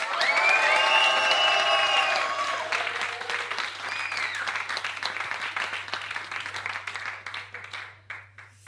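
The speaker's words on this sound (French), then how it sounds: "Est-ce que vous pouvez applaudir toute cette première scène slam" A crowd bursts into loud applause, cheers and whoops for slam, spoken word and slam rap performers; the cheering voices fade after a couple of seconds while clapping continues and gradually thins out toward the end.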